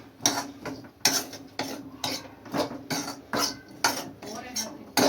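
Sweet corn, onion and spices are mixed in a bowl with a spoon, a rhythmic run of close clinks and scrapes against the bowl about once or twice per second.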